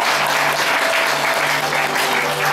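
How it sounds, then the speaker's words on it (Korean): Audience applause during a group commemorative photo at a municipal gender equality week ceremony, brisk even clapping from a room of people with a faint steady hum underneath. "여러분 화사하게 웃으시도록 박수 부탁드리겠습니다"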